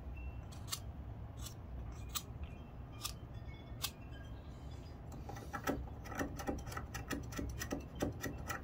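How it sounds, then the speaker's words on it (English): A wooden pencil is shaved to a point with an Opinel folding knife, giving a series of crisp scraping cuts, spaced at first and then quicker, close by and quiet with no talking. "I'm just going to sharpen my pencil here with my Opinel"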